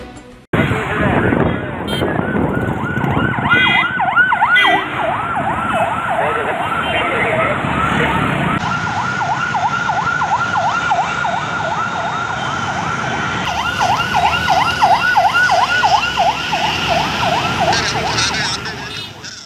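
An ambulance siren wails in a rapid repeating cycle as it moves through a Hyderabad traffic green channel carrying a human heart, loud and continuous, with a voice speaking over it throughout.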